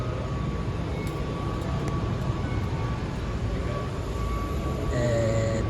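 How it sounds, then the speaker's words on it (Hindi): A Bangkok metro train pulls into the station, a steady loud rolling rumble with a faint high whine, growing slightly louder near the end as it arrives. "आ गई अपनी मेट्रो।"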